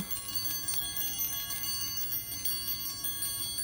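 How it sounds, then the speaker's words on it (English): A handheld bell rung during a spiritual chakra-awakening reading gives a steady, shimmering metallic ring with sustained overtones that hold throughout, fairly close and alone. "I'm going to wake their chakras up with this bell here"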